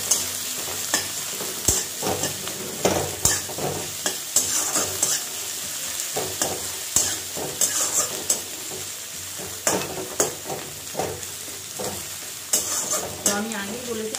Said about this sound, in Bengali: পেঁয়াজটাকে হালকা করে ভেজে নেব।